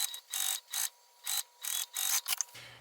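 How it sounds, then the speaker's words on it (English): Sewing machine back stitching a straight seam on bag fabric, close rhythmic bursts of mechanical whirring alternating forward and back with brief gaps. "So I'm just back stitching and just sewing with the full seam allowance."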